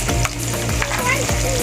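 Garlic frying in a pan for chicken liver and gizzard dish, a steady close sizzle with stirring scrapes running throughout, no talk.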